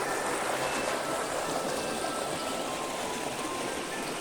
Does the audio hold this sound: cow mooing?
no